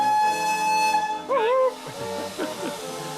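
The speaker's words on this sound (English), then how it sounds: "Blow the whistle." A steam locomotive whistle on a Victorian heritage train blows in a sustained tonal blast with a wavering pitch, followed by hiss and low mechanical noise.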